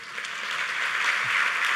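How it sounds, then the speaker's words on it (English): A steady wash of clapping from a small conference audience, even and continuous, building slightly and then holding at a moderate volume. "take a round of applause"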